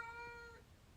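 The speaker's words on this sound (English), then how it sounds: "Rocky, be quiet. Sorry, that's my cat." A single drawn-out cat meow, fairly faint, lasting about half a second before fading into quiet room noise.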